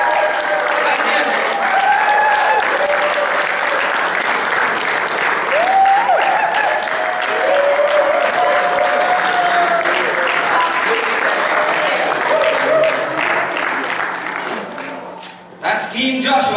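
A crowd at an MMA league event applauds and cheers steadily as a team makes its entrance, a loud sustained wash of clapping with a PA announcer's voice over it, fading briefly near the end.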